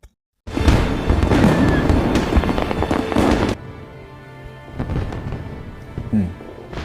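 Fireworks burst in a film scene in a loud, dense crackling barrage with deep booms that cuts off abruptly after a few seconds, followed by quieter distant pops and rumbles.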